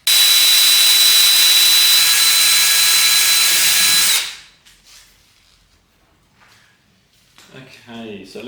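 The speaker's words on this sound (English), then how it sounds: "So I've drilled a hole in the top here" A power drill runs steadily and loudly for about four seconds while boring a hole in a Moke canopy piece, then cuts off, followed by quiet handling and a little talk near the end.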